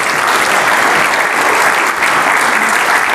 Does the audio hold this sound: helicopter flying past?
no